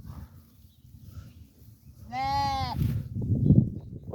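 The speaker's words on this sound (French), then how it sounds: "Donc voilà pour les moutons, ils vont tous très bien." Sheep and rams bleating outdoors on a farm: one clear, close bleat with a wavering tone, set against a low murmur of background noise and scattered rustling from the flock.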